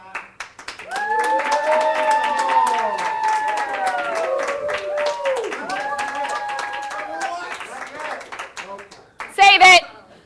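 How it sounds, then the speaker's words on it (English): A studio audience at a live television taping claps and cheers, voices rising over steady applause, ending in a short louder burst of clapping. "I need a large applause from the audience this time"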